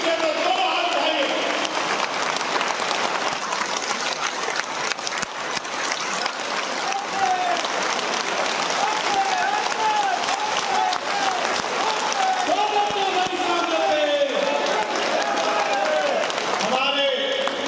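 Sustained applause from a large crowd at a political gathering in Bhopal, loud and steady for the whole stretch, with voices and cheering mixed into the clapping throughout.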